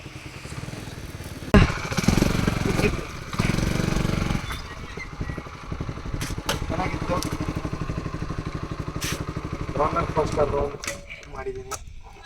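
A two-wheeler runs close by, its engine putting out a steady low putter with revving bursts near the start, while someone talks over it throughout.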